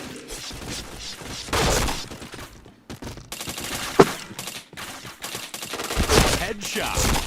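Gunfire in a video game, with a few loud bursts and a sharp single shot amid mechanical game effects and a busy, noisy background.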